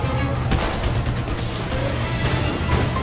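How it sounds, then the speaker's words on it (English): Weapons firing during vehicle stunts in the video game Just Cause 2, a rapid series of sharp gunshot cracks and bursts over a rumbling low background, fairly loud and continuous. "you can at the same time fire your weapons at your enemies"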